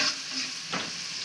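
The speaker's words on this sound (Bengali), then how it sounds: "এখন হালকা পেঁয়াজটা ভাজা ভাজা হওয়া পর্যন্ত একটু অপেক্ষা করতে হবে।" Onions frying in oil with chilli, bay leaf, whole garam masala, cloves and garlic, giving a steady soft sizzle with a brief stirring scrape partway through.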